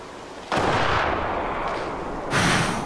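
A rifle shot fired at a wolf in a hunting video game, a sharp loud blast at the start with a long rolling echo tailing off and a second burst of noise near the end.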